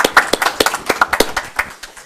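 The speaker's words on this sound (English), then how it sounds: "Have everyone clap for them because they're good" An audience claps for students at a township council meeting in Franklin Township, New Jersey, with a sparse, uneven run of distinct claps close by that thins out toward the end.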